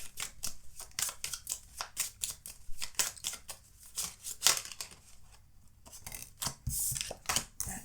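Oracle cards being shuffled for a pick-a-card tarot reading, a close run of quick papery riffles and flicks with brief pauses, heard on its own with no voice.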